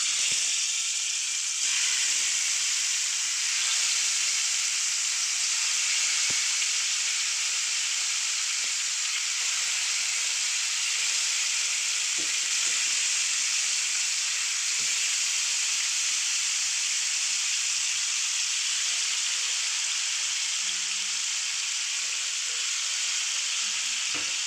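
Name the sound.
aar fish pieces frying in hot mustard oil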